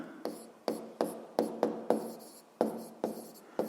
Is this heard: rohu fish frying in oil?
no